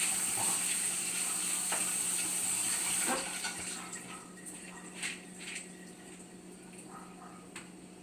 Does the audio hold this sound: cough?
no